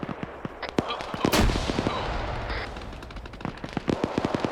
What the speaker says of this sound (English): there's the BMP firing